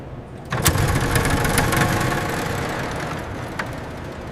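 Four piston engines of a Convair XC-99 aircraft starting up and settling into a steady idle, a loud continuous rumbling drone that steps up in level early on and then holds, with no talk.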